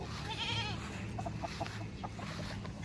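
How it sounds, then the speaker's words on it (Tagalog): Goat on a farm beside a chicken area, with a wavering bleat early on, then short clucking calls from fowl nearby, all over a steady outdoor background hum. "Ay, may kambing sila."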